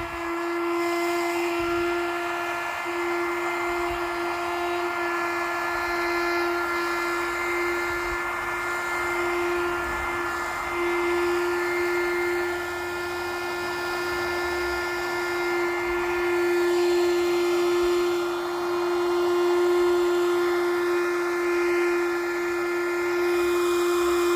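An electric vacuum cleaner runs steadily with a strong, constant whine and motor drone that swells and eases slightly over time, close and loud, with no talking.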